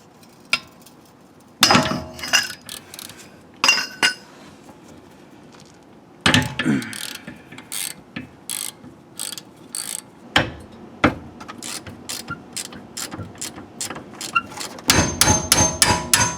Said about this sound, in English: I'm going to go ahead and just bust all these bolts loose